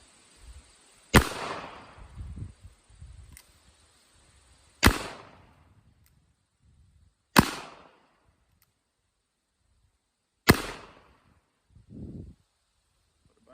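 Four sharp black powder revolver reports from a Pietta 1851 Navy, spaced a few seconds apart, each loud and close with a short decaying tail; one shot comes after a brief hang fire delay, with faint handling noises between.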